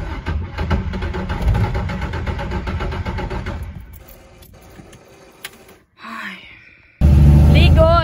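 Chevrolet Opala with an alcohol-fuelled engine and a worn starter motor cranks repeatedly, a rough rhythmic churning that fades and stops, followed by a brief whine and then a loud burst as it catches.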